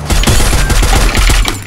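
Rapid automatic gunfire rattles loudly in Free Fire, a dense burst of close shots fired in quick succession with no talk over it.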